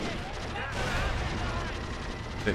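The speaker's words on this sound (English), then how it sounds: "You can hear them all dying in the background." Dense video game gunfire and explosions rattle continuously in a chaotic battle between toy army men, with faint distant cries of dying soldiers mixed into the noise.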